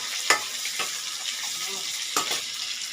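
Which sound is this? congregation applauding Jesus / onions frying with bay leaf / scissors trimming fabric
onions frying with bay leaf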